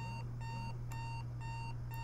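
A video game alarm clock rings in fast repeating beeps, steady and regular, over a constant low hum.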